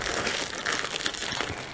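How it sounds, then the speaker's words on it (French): Plastic packaging being handled and crinkled up close, a dense, continuous crackling rustle with no talk over it. "Désolée pour le bruit du plastique."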